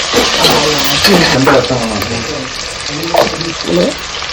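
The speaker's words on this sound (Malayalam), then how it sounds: "സവോള വഴറ്റും, കുറച്ച് മല്ലിയില ഇട്ട്" Onions sauté in a pan for ghee rice alongside coriander leaves, a steady close sizzle with stirring scrapes, while a person talks over it.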